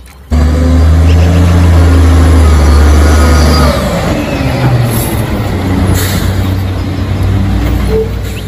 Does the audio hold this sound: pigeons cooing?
no